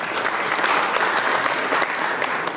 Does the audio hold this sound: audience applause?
yes